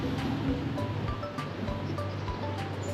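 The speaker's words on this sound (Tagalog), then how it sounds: "Hangin." Wind blows outdoors near a beach in Lipa, Batangas, a soft, continuous rushing with faint buffeting on the microphone and distant surf-like noise.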